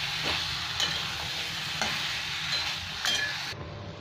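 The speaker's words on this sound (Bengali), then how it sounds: "আর 2-3 মিনিট ভালো করে কষে নেবো সবজিটাকে" Young jackfruit pieces sauté in a pan with a steady hiss of frying, broken by a few scraping stirs of a spatula, close up, cutting off abruptly near the end.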